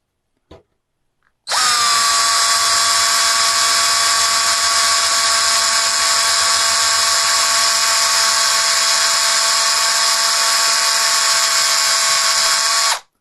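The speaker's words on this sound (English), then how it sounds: "try the drill method, see how it goes." A power drill bores out a stuck screw head on an IBM 5154 EGA monitor, starting after a brief click and running as one loud, steady, high whine for about eleven seconds before stopping abruptly.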